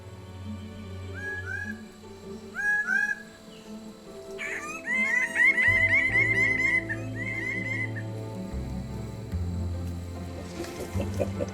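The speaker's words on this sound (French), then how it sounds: "l'oiseau de paradis." Birds of paradise call in a Papua forest, giving a series of clear, rising whistled and chattering phrases over steady insect drone and a low rumble, with brief bursts of overlapping calls in the latter half.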